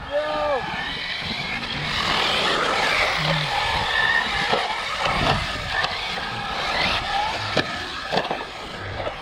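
An ARRMA Typhon RC car races past on a lap, a buzzing high-pitched motor whine that swells and fades with a few bumps and knocks, heard amid outdoor noise and people talking.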